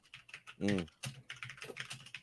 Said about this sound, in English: Why are you typing so hard, man? That's my keyboard. It's a gaming keyboard